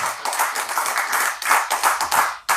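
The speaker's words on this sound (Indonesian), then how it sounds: "Tepuk tangan buat Kiai Haji Imaduddin Utsman Al-Bantani." An audience claps for a speaker in rapid, uneven bursts, with close, sharp hand claps rising and falling in loudness over a couple of seconds.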